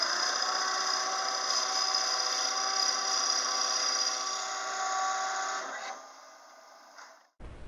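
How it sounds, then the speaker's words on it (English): A lathe drilling a deep hole into a wood blank gives a steady, fairly loud whining, humming drone that holds for about six seconds, fades as it winds down, and ends with a short thump, with no talking. "we're going to drill 4 inches deep, and I'll periodically check with the tape measure to see my progress."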